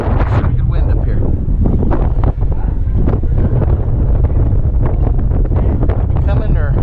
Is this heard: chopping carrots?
no